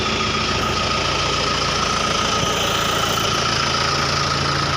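A 90 hp turbocharged 5090E tractor engine runs close by at a steady, loud, rumbling pace with a constant whine and no clear rise in revs, with no talk.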